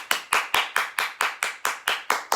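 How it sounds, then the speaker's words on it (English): An exercise class claps in unison, about ten sharp, evenly spaced claps in a quick steady rhythm, close and clear with no talking over them. "let's clap it up"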